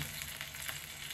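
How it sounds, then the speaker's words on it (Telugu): Brinjals frying in a pan for Telangana-style masala curry, giving a soft, even sizzle with faint crackling throughout. "మనం మిక్సీ పట్టేలోపు వంకాయలు ఇలా మంచిగా వేగిపోయాయండి"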